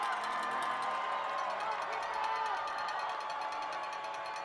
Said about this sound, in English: Crowd comes to life on 3rd and 4.